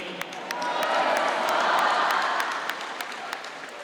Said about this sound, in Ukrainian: оплески нашим воїнам